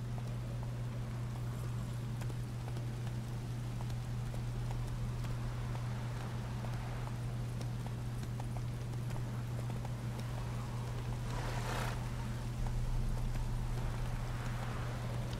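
Hoofbeats of Roach, Geralt's horse in The Witcher 3, a steady clip-clop gait over the ground that runs through the whole stretch, accompanied by a low constant hum and faint wind.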